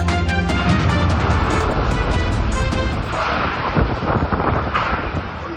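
Howling typhoon wind roars continuously with heavy rain battering, loud and close, buffeting the microphone throughout.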